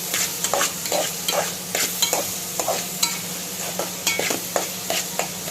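Onions and coriander fry in a pan while a spoon stirs them in quick, repeated scrapes over a steady sizzle, close up and with no voices.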